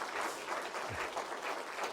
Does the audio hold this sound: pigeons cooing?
no